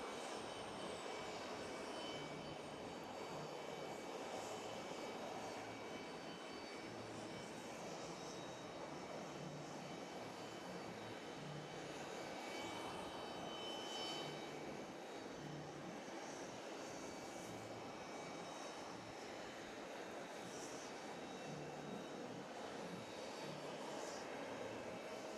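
An Emirates airliner arriving from Milan taxis at JFK airport, its engines a steady, distant roar holding throughout with faint rumbling and no voices.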